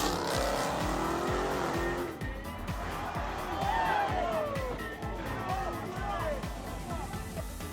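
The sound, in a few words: Ford Mustang speeding with tires squealing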